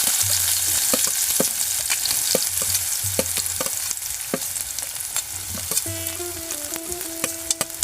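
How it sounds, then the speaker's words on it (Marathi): Finely chopped onion fries in hot oil with a loud, steady sizzle, broken by sharp spoon clicks and stirring scrapes against the pan, plus faint tonal hums in the background. "आता मी त्याच्यामध्ये कांदा टाकतो बारीक चिरलेला"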